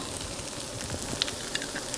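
Tofu frying in a pan, a soft steady sizzle with a few small pops, close and fairly quiet, no voices.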